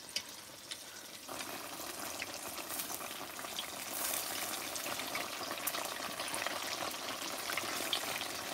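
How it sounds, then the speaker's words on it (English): A steady, even hiss of Jamaican snapper frying in hot oil outdoors, a dense crackling sizzle that grows slightly louder partway through, heard close and alone. "You want to see what I'm frying"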